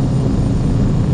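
PA46-T Meridian turboprop engine at takeoff power during the roll, a loud, steady broadband roar and hum from inside the cabin.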